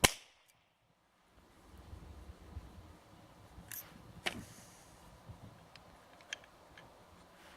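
A primer fires alone in a gun chambered with a bullet but no powder, giving a short faint pop followed by a few small metallic clicks and ticks, close and with no voices.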